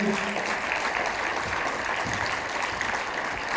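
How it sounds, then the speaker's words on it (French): An audience claps after a show at a mayors' association gathering, a short burst of steady, fairly loud applause from many hands without pause. "on peut encore une fois l'applaudir"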